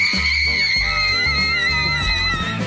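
A crowd of young female Zac Efron fans in Paris shrieking together, loud, continuous high-pitched screams layered over one another, with rhythmic thumping and crowd noise underneath.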